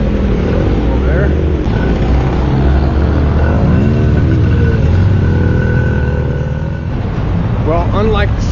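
Old vintage cars rumble and idle along a busy Havana street, a loud, steady low engine drone with passing vehicles, heard under close continuous talking.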